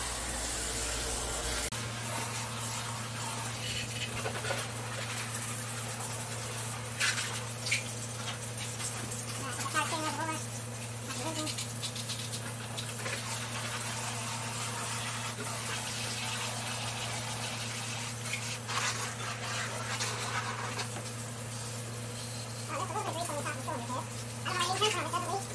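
Garden hose water sprays steadily into the engine bay pockets to rinse off soap, a continuous hiss and splatter over a low steady hum, with someone talking at times.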